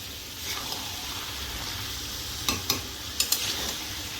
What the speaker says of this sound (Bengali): মশলার সঙ্গে সয়াবিনটাকে ভালোভাবে কষিয়ে নিচ্ছি।